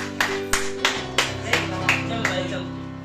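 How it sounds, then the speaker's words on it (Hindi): A few people at a small home birthday celebration clap in a slow, even rhythm, about eight distinct sharp claps close by, with a faint voice underneath. "तालियां तो बजा दो यार"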